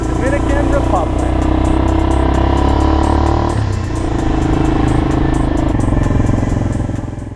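A motorcycle rides along a road in Samana, Dominican Republic, its engine droning steadily and loudly with wind and road noise throughout, and a slight dip midway as it shifts or eases off.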